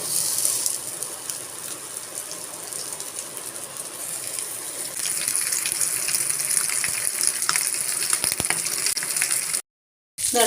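Fish frying in hot sunflower oil makes a steady hissing gush that grows louder partway through, then cuts out into brief silence near the end.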